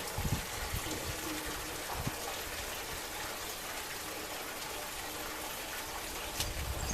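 Water runs steadily from a hose into the tank of a homemade orchard sprayer built on an Allis B tractor, giving a continuous hissing splash with no speech over it.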